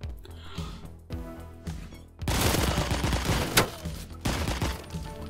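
Rapid Uzi bursts in the video game Door Kickers Action Squad, a few short volleys at first, then a dense, continuous rattle of automatic fire with a sharp crack partway through.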